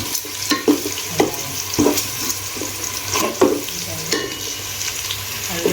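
Onions frying in a pan for vegetarian Kabuli pulao, a steady sizzle broken by repeated scraping stirs of a spoon every second or so, close and moderately loud with no talking.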